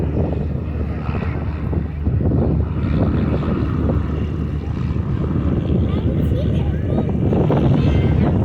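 A Yak-50 aerobatic propeller plane flying at an airshow in Arizona, its engine a steady loud drone with a wind-buffeted, rumbling tone, while a voice talks over it.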